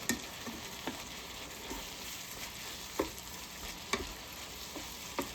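Ground pork sizzles steadily in a pan for a breakfast casserole, with a continuous broadband crackle and occasional sharper pops and spatula scrapes roughly every second, close and moderately loud, no talking.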